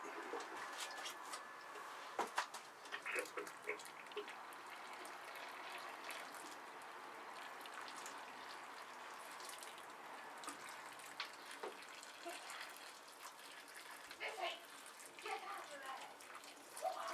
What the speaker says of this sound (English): It's time to water them.